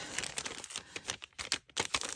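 Paper envelopes holding journaling cards are handled up close, giving quiet crinkles and rustles in quick, uneven bursts with no voice.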